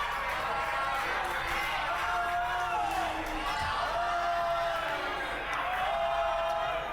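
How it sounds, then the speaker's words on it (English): A wrestling crowd at a live pro wrestling event screams and yells at full volume, a dense continuous roar that swells and falls with whoops, while a commentator talks over it. "The crowd screaming, just yelling at the top of their lungs, Manú."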